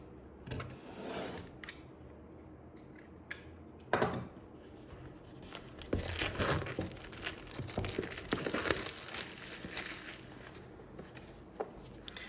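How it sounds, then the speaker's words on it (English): A penknife cuts open plastic wrapping on a boxed 70mai Dash Cam Pro Plus with rear camera set. Close crinkling and scraping comes in irregular bursts, louder in the middle, with brief pauses. "Okay, so I have a penknife right here. Let's cut open the plastic."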